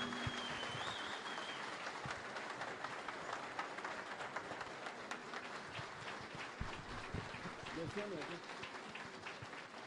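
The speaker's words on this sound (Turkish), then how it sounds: "Sayın Kemal Kılıçdaroğlu'nu konuşmasını yapmak üzere büyük alkışlarınızla sahneye davet ediyorum." Sustained audience applause fills a hall at a political meeting with local community leaders, village heads and NGO representatives in Osmaniye, Turkey, steady and dense throughout as a party leader is welcomed to the stage.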